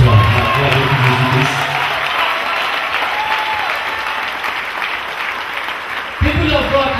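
A church congregation at a Cameroonian prophetic service claps loudly and continuously. A sustained roar of hands mixes with voices, and a louder voice cuts in near the end.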